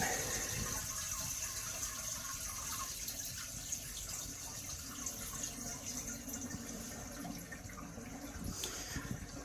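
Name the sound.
toilet flushing and tank refilling with water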